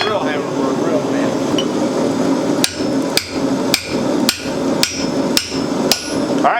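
Blacksmith's hammer striking hot steel while forging a hatchet, about eight sharp, ringing metallic blows at an even pace over a steady background hum.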